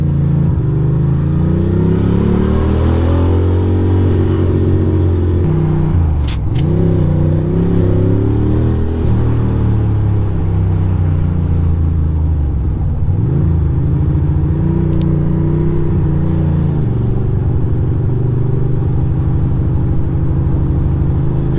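A motorcycle lane splits through heavy Brooklyn traffic, its engine droning loud and steady throughout while revving rises and falls in repeated surges. No voices are heard.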